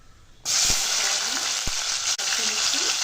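Onions, green chillies and tomatoes hit hot oil in a pan with a sudden loud sizzle that settles into steady frying hiss, broken by a few stirring scrapes.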